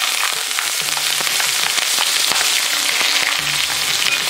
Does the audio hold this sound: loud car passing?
no